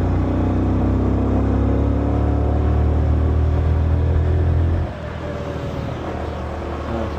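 Loud, steady engine drone and wind rush from a Honda XRM 125 motorcycle on a Marilaque ride, cutting down sharply to a quieter rumble near the end.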